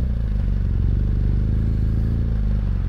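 A BMW R1200 GS Adventure motorcycle engine gives a steady, close, low rumble with a light mechanical clatter, heard alone without talk.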